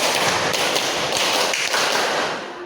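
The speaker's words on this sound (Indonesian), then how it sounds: "Ulangi, tepuk 4 2 kali" A classroom of Islamic senior high school students claps a rhythm pattern together, a dense burst of many hands striking at once, loud and close, filling the room with sharp overlapping slaps.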